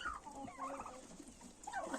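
Bronze and red turkeys on a farm gobble in a few short, warbling bursts nearby, with quieter clucking between calls.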